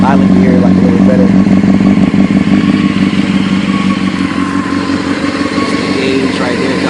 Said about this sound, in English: I'm gonna go ahead and rev it up real quick. Let y'all hear it.